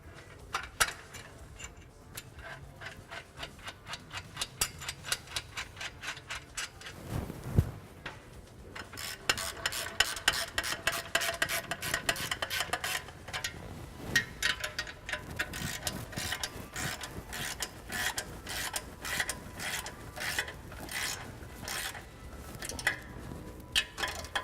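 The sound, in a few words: installing header bolts with hand tools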